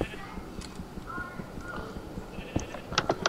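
Sheep bleating in the Minecraft Tekkit video game, a few short cries near the end over steady game noise and footsteps, with players talking throughout.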